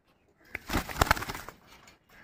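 Pigeons kept for sale let out a short, soft burst of cooing and fluttering sounds lasting about a second, nearby and fairly quiet, with no talk.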